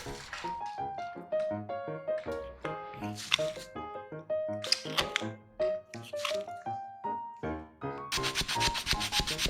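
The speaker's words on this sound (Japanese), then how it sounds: "この部分はすべて入り済みのため、とてもサンディングがやりにくいです。" Sandpaper rubbing over cured polyester putty filling a joint on a wooden frame, heard as intermittent scratchy strokes that grow into continuous rasping near the end, mixed with tonal background sounds.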